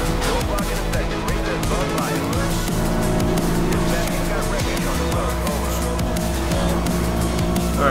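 A McLaren MP4-12C and rival race cars roar at speed in Need for Speed: Most Wanted (2012). Loud, continuous engine drone and whine runs throughout, with a voice occasionally talking over it.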